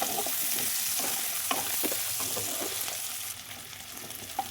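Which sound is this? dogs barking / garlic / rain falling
garlic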